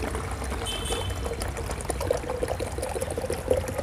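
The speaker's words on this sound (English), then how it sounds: "just take a simple container, add 1 liter of water" Steady pouring of about 1 liter of water into a container, a continuous splashing trickle at close range with no talking.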